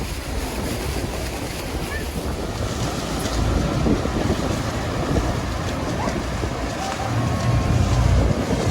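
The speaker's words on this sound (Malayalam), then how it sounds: "ഞങ്ങൾ ബോട്ട് ടൂർ അപ്പോൾ സ്റ്റാർട്ട് ചെയ്തിട്ടുണ്ട്." A tour boat heads out toward Niagara Falls, its engine churning under heavy gusting wind and splashing water, loud and continuous throughout with no clear voices.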